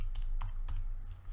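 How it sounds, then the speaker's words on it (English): Typing on a computer keyboard while entering a calculation, several quick close key clicks in an irregular burst over a low steady hum, no talking. "Type this in."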